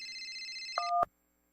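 A mobile phone rings with an incoming call, giving a bright electronic ringtone of steady high tones that steps down into two lower notes before cutting off abruptly, close and clear with no talking.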